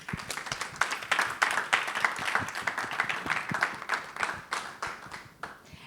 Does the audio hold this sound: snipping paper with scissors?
no